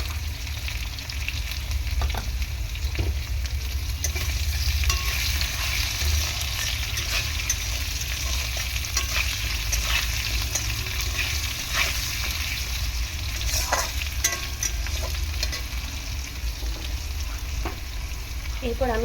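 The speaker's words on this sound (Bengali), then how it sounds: "যখন আমি আলুটা ভাজছি একটু লবণ দিয়ে দেবো।" Potato pieces frying in a pan with salt added, a steady close sizzle running throughout with scattered stirring clicks and scrapes, with no voices heard.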